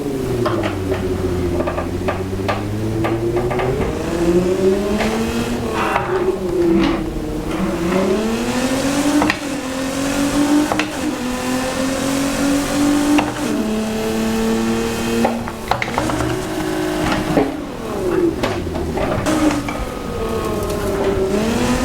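A Nissan GTR engine in a vehicle driven off-road in the Need for Speed video game, revving loudly and continuously, its pitch climbing and falling with repeated gear shifts, with no talking.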